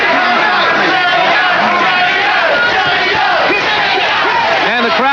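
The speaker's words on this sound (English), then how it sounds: "the crowd here in Atlantic City going for the underdog. They're chanting Jimmy Young's name." An Atlantic City boxing crowd chants a fighter's name, Jimmy Young, loud and rhythmic. The arena roar rises and falls in repeated waves for several seconds, with no single voice standing out.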